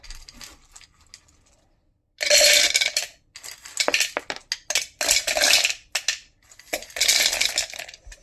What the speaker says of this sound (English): let's tip some chocolate chips into the blender.